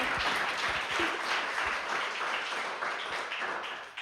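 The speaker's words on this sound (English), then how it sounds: "let's give her a big round of applause" Audience applause at a masterclass on go-to-market fundamentals and founder-led sales, a dense steady wash of clapping that fades slightly toward the end.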